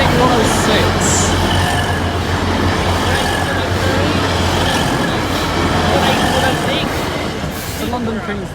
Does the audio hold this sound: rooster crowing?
no